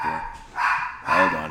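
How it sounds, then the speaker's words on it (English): A dog barks indoors in a home, apparently at someone at the door: two short, fairly quiet bursts of barking with a brief pause between them. "My dog's barking."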